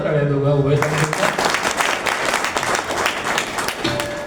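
An audience at a kirtan, a devotional singing event, bursts into loud, dense clapping after a brief sustained tone and keeps applauding steadily to the end.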